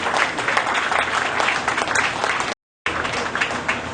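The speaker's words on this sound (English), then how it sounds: "let's put our hands together on just a beautiful show today" Steady, dense applause from a crowd at a Central New York cattle show, loud and continuous with a brief silent gap near the end.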